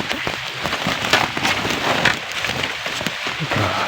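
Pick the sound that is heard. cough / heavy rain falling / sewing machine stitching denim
heavy rain falling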